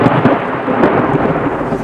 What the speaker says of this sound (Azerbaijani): Sürətli axın zamanı güclü parıltılı şimşək görünür və gurultu səsi eşidilir.